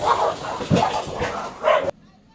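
Dogs scuffle and bark in short, close bursts for a couple of seconds, with whimpering yips, and the sound stops abruptly near the end.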